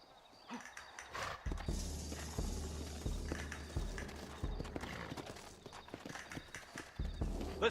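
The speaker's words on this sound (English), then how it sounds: "Looks like Carlos left us some horses." Horse hooves clip-clop steadily in the video game Red Dead Redemption, a near, rhythmic trot with a faint whinny and soft ambient sounds around it.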